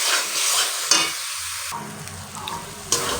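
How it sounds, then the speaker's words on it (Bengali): Tomato paste cooking in hot oil for a Bengali jackfruit recipe, a dense hissing sizzle interrupted by a few stirring strokes and pan knocks, with no talking. "টমেটোটাকে ততক্ষণ কষাতে হবে যতক্ষণ এর থেকে টমেটোর কাঁচা গন্ধটা না চলে যায়।"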